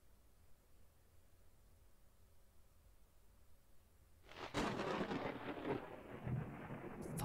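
Thunder from a storm in the horror video game Nun Massacre erupts after a quiet stretch, a sudden loud crack rolling into a sustained rumble with rain-like hiss.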